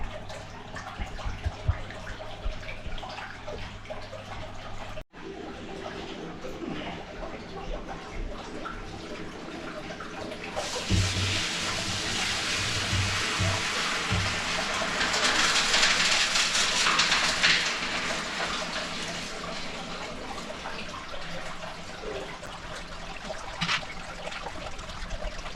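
Clean water pouring into an emptied fish tank during an aquarium wash, a steady trickling gush that grows fuller and louder midway, running continuously with no voices.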